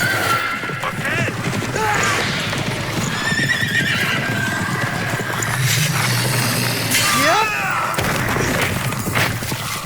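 A horse whinnies loudly over steady hoofbeats and clattering effects in the video game The Witcher 3: Wild Hunt, with a busy, dense soundscape throughout.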